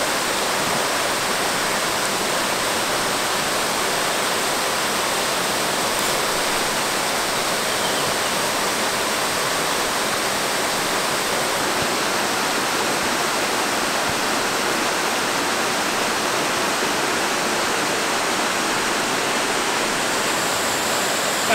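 Main waterfall in a Sunshine Coast rainforest, a dense, steady roar of falling water, loud and constant with no breaks.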